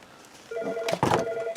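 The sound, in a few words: phone ringing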